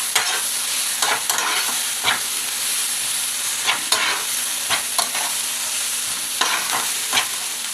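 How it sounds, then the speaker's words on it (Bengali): Chicken kosha spice paste of ground chilli, turmeric and cumin fries in a pan, hissing steadily under repeated spatula scrapes at an uneven rhythm, close and without voices. "এই কষানো হচ্ছে।"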